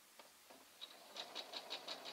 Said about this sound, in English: I'm going to continue sewing right in the edge of my ribbon